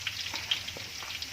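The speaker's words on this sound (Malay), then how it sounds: "ini adalah proses menggoreng daging ya" Meat frying in oil with onion for an Iban dish, giving a steady close sizzle with soft crackling pops throughout, no voices.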